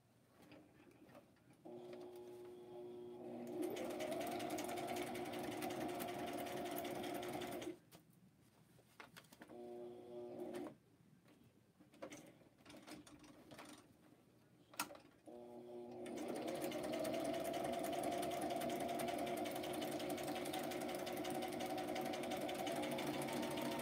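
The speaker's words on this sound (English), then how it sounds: "Sewing machine" Sewing machine stitching on butterfly envelopes, running in two long loud bursts with steady whirring rhythm, separated by a quieter stretch of handling noises.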